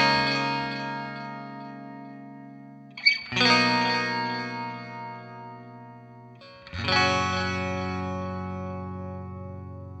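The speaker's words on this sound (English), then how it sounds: "now chorus, delay and reverb, all three in parallel" Electric guitar through a NUX MG-30 multi-effects unit with chorus, delay and reverb running in parallel: two sustained strummed chords, each ringing out with shimmering modulation and trailing echoes, loud and alone.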